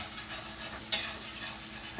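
A spatula scrapes egg cooking in a pan, a soft sizzle running throughout with a sharp scratch near the middle and a few lighter scrapes after.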